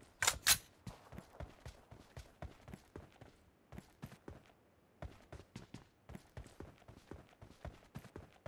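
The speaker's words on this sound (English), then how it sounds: "Reloading!" A gun reloaded in a shooter video game, heard as a long series of crisp mechanical clicks and clacks in uneven bursts with short gaps, close and fairly quiet, with a louder double snap near the start.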